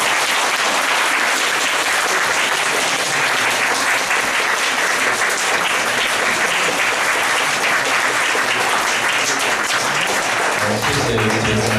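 Sustained, loud audience applause at a public lecture fills the space evenly for about twelve seconds, a dense wash of many hands clapping without pause.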